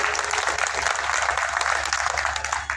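Loud, dense applause from an outdoor audience at a Buddha festival, continuous clapping filling the whole stretch at close range with no pauses, a steady crowd roar over a low hum.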